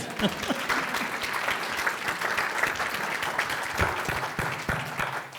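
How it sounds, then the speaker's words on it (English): An audience at a fair and affordable housing summit applauds the microphone runners, a sustained wash of many hands clapping at moderate loudness for several seconds. "can we please give a round of applause to our microphone runners?"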